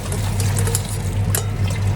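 Hot water poured off boiled bean sprouts as they are drained, a steady splashing stream running close and fairly loud for about two seconds, with no one talking.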